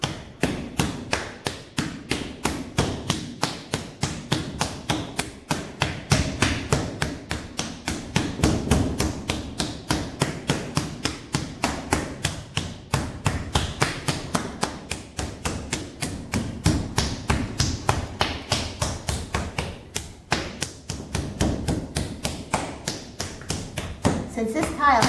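Clay is pounded into a tile mold with an edge detail, a long run of rapid, regular slaps and thuds close by, with a person talking now and then.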